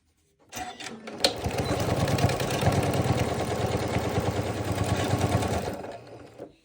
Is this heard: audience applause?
no